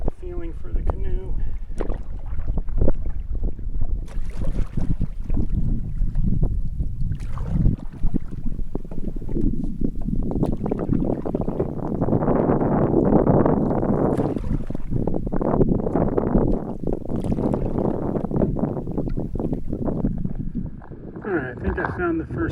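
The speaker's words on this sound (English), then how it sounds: "This will be a good one to get my bearings and get the feeling for the canoe." A canoe is paddled on a lake in Woodland Caribou wilderness, with irregular splashing and water swishes under gusty wind noise on the microphone, and a voice talking at times.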